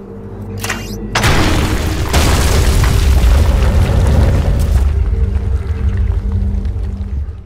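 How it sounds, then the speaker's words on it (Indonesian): A single powerful rifle blast erupts suddenly, followed by a long, heavy rumbling boom that rolls on for several seconds before slowly fading. "Mendengar suara ledakan yang dihasilkan senjata itu"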